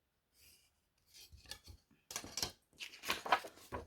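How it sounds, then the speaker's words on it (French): Pencil drawing lines on paper for a scrapbook album: a handful of short, faint scratchy strokes in separate bursts, very close, quiet, with no talking. "Et là, on vient tracer tous nos traits"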